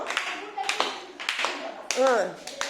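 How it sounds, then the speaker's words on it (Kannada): Schoolchildren in a classroom clap for classmates in a few separate bursts of claps, mixed with children's voices and a teacher speaking. "ಅವ್ರಿಗೆ ಇನ್ನೊಂದು ಚಪ್ಪಾಳೆ ಹೊಡಿದ್ರಿ"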